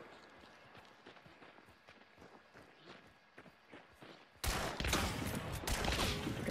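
Shotgun fire in the multiplayer shooter Hunt: Showdown: after quiet footsteps and movement, a loud, dense burst of gunfire erupts and sustained loud shooting and noise continue to the end.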